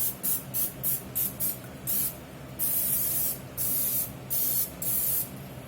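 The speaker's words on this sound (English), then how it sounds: "I'm going to spray these with a little bit of olive oil." Olive oil sprayed onto Cornish hens from a pump sprayer, a rapid series of short hissing bursts followed by several longer sprays, close and crisp, with no talking.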